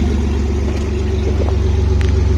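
A BMW 3-litre engine in a 320ci-to-330ci manual drift car conversion, with the exhaust not fully connected, revs while still cold: a loud, steady low rumble with slight throttle swells, close and continuous with no talking.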